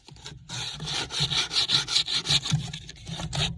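Sandpaper folded around a wooden piece rubs down its edges in quick back-and-forth strokes, a close, steady rasping scrape with short rhythmic bursts and no talk.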